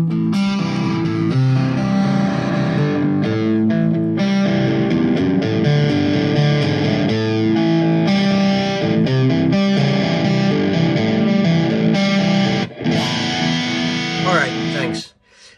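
Electric guitar played through an Ibanez Pentatone preamp, a thick distorted sustained tone with ringing chords and melodic lines, loud and continuous, cutting off briefly near the end.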